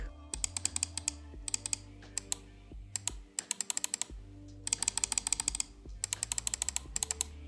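Rapid runs of crisp Kailh GM 2.0 Teal and GM 8.0 Black mouse switch clicks rattle in clusters separated by brief pauses, close up over a faint background hum.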